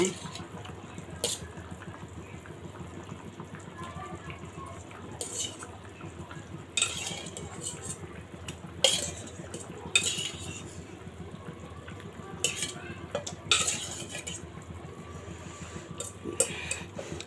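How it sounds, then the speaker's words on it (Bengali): Fish added to a pan of bitter gourd curry and stirred, with faint bubbling and repeated clinks and scrapes of a spoon against the pot, fairly close and steady. "মাছগুলো এখন দিয়ে দেব"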